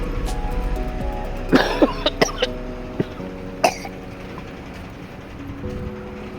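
Several short, sharp coughs from a sick bus conductor in a quick cluster, then a couple more spaced out, over a steady low rumble of the moving bus.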